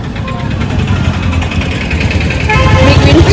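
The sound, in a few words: road traffic with engines on a town street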